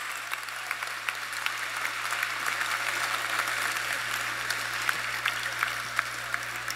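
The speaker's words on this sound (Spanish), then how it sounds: "Dese un aplauso" Audience at a religious congress in Kansas breaks into sustained applause, a thick, even roll of many hands clapping that keeps steady volume throughout, over a faint background hum.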